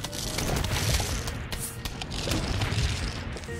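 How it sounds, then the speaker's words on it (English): A Jalapeno explosion clearing a lane of zombies in Plants vs Zombies comes through as a dense, roaring blast that holds loud throughout, layered with crackling game effects. "Jalapeno destroys an entire lane of zombies"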